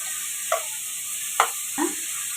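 Onions sautéing in a pan for a mutton curry, a steady hissing sizzle broken by three brief scraping stirs of a spatula, close and continuous with no talking.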